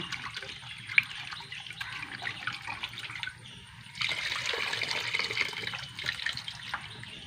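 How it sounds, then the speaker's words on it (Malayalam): Water being poured into a cooking pot of tamarind water for a homestyle curry, a steady trickling pour that swells louder in the second half, close by and heard alone. "കുറച്ചും കൂടി വെള്ളം ഒഴിച്ച് കൊടുക്കണം"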